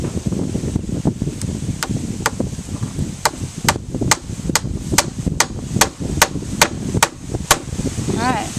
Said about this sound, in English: now he's going to nail it in